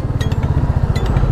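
A motorcycle engine labours up a steep mountain road on the pilgrimage route to Manimahesh, its close, steady low-pitched throb pulsing rhythmically, with faint clinks on top.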